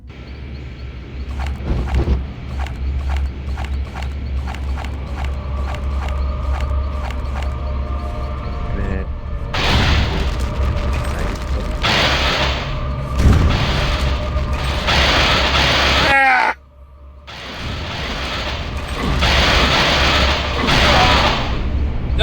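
Electric crackling bursts from a Tesla gun fired in a World War II shooter against Nazi zombies, loud and continuous over a steady game soundtrack with repeated zaps and booming blasts, briefly cutting out midway before resuming.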